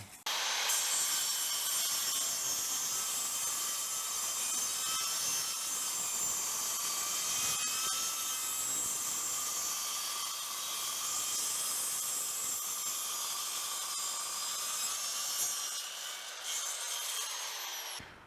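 Continuous sawing of reclaimed wood beams, a steady rasping hiss that holds for the whole stretch at moderate level before stopping near the end.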